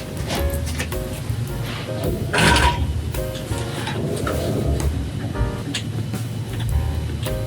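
A longarm quilting machine stitches a quilt on a custom pattern, giving a continuous mechanical whirring hum with rhythmic clicking and shifting motor tones, close and steady throughout.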